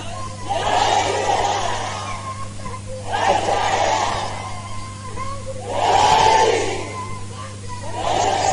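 A large crowd at a religious gathering roars out slogans in unison in repeated surging waves, about four big swells, loud and echoing over a steady electrical hum.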